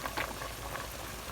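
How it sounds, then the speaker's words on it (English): A pot of water at a rolling boil for spaghetti, a steady bubbling hiss with soft pops, close by and moderately quiet, with no talking. "My water is boiling."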